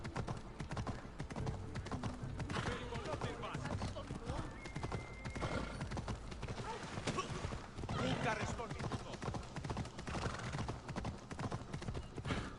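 Horse galloping in the video game Assassin's Creed Odyssey, rapid continuous hoof clip-clop throughout, with a neigh or whinny mixed in and game sounds around it.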